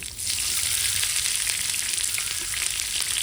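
Finely grated coconut and chopped onions fry in oil in a pan with a loud, steady, hissing sizzle that holds evenly throughout, with no talking.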